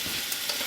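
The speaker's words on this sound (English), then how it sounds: "we're starting to get a little bit of sizzle on our meat" Meat sizzles steadily while browning in a cast iron pan for a cheap dog stew, a close continuous hiss with a couple of faint ticks and no talking.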